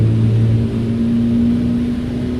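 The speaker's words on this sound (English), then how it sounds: "You can hear it kind of sounds like a race engine." A 1200HP outlaw semi truck running bobtail with a 6-speed, set to 2,500 horsepower, holds a loud, close, steady engine drone with a race-engine edge. No one speaks.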